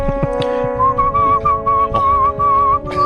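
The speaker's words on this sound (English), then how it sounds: "he whistled along to the CD" Someone whistles a tune along to a CD playing on the radio, a clear, steady melodic whistle with sustained notes and short breaks, close and loud over faint background music.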